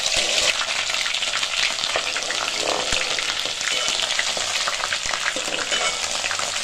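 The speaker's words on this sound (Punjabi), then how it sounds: "ਇਹ ਹੁਣ ਲਸਣ ਤੇ ਅਦਰਕ ਇਹਦੇ ਵਿੱਚ ਪਾਣੇ ਆ।" Garlic and ginger crackle and sizzle in hot ghee for a tadka for Punjabi sarson ka saag, a dense continuous frying hiss with occasional stirring clicks, close and steady.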